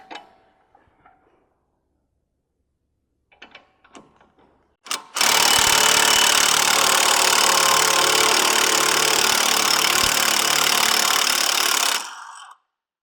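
A tool loosening an 18 mm sway bar end link bolt on a B8.5 Audi S4: a few light clicks and knocks, then a loud, steady mechanical whir lasting about seven seconds before it stops.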